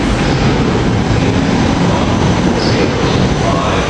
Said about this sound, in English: Here we got the 6 o'clock Glenside train coming in with rail cars